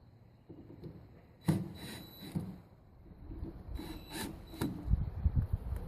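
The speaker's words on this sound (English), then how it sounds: "I will go ahead and pry this around a little bit with the screwdriver to get it lined up" A screwdriver pries an electrical outlet into alignment on an outdoor power pedestal, giving a few faint scraping rubs and sharp clicks of metal against the fitting, spread across a quiet background.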